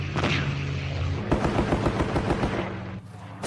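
Combat audio from the Battle of Lang Vei in the Vietnam War, with aircraft bombing and strafing runs: dense, rapid bursts of machine-gun fire crackling over a low rumble, loud and continuous for several seconds.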